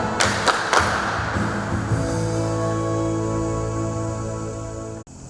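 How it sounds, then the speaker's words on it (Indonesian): A church congregation at a Sunday worship service claps hands to a song, with a few sharp claps near the start before sustained keyboard and singing tones carry on. "Kalau kau senang tepuk tanganmu, tepuklah tanganmu."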